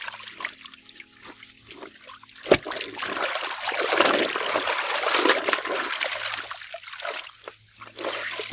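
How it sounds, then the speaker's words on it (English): Water trickles, splashes and sloshes as white jeans are rinsed by hand, a close, uneven stream with one sharp knock partway through and the flow swelling and easing again. "So we are just rinsing the jeans."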